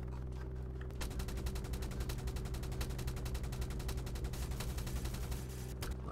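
Sustained rapid automatic gunfire in the video game War Tycoon, a dense stream of shots firing steadily and fairly loud for several seconds over a constant low background rumble.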